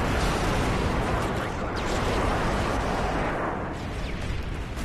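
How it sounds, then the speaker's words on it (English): An airstrike in Modern Warfare 3 unleashes a dense, sustained roar of heavy explosions that rumble and boom continuously, loud and close, with no voices over them. "Friendly airstrike on the way."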